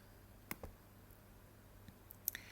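A computer mouse clicks through a software menu, with a few faint, sharp clicks spaced apart in a quiet room.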